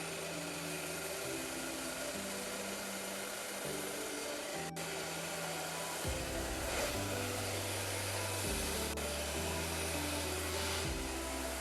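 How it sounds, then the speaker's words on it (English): A hair dryer with an attachment blows continuously nearby on textured hair, its whirring motor tone shifting pitch a few times as the airflow changes. "I'm going to use my Xtiva blow dryer with that attachment"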